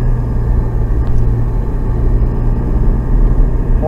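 A Porsche Cayman GT4 on a race track, its engine a steady, loud, low rumble heard from inside the car, with no clear rise in pitch.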